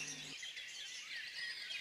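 A dunnock in the Côtes-d'Armor countryside gives a thin, high twittering song, faint and continuous over a quiet outdoor background.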